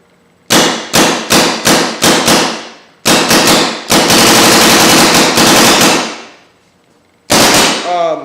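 An Ego 7 marker, its board capped at 15 BPS, fires loud, close shots: several spaced single shots, then rapid strings that run into a continuous stream before a final burst.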